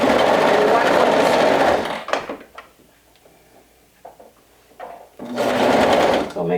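A sewing machine stitches a skirt seam through three layers of fabric for a bodice, lining and main; loud, fast whirring runs, stops for a few seconds of faint handling, then starts up again.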